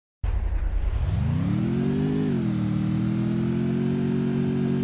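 Motorbike engine in the video game Garena Free Fire starts abruptly, revs up with a rising whine, then settles into a steady close drone that continues to the end.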